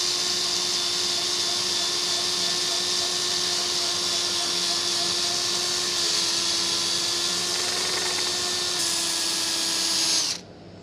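A spalted beech wood turning spins on a lathe while 180-grit sandpaper is pressed against it, giving a loud, steady high whine that runs unbroken for about ten seconds before cutting off abruptly.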